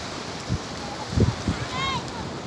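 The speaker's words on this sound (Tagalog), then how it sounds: "Lumakas na yung alon" Strong ocean waves roll in at Darigayos beach, a steady wash of surf with a few low thumps as breakers hit, mixed with wind and distant voices of people talking.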